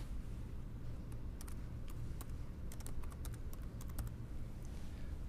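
Keys tapped in short irregular bursts on a computer keyboard, typing a name into a scan-to-file setup screen for an OKI smart multifunction printer, steady low background hum underneath.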